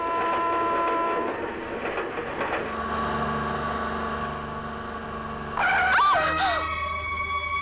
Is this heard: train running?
yes